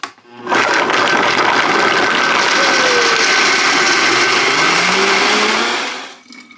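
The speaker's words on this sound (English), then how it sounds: "we're going to go over to the blender and we're going to blend this until it's so smooth" A blender roars loudly and steadily for several seconds, blending a vegan Caesar dressing smooth, starting abruptly and winding down at the end.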